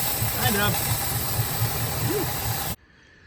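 A 1961 DeSoto with a 361 two-barrel V8 running rough after cranking, a steady low engine rumble with faint pulsing that cuts off abruptly near the end.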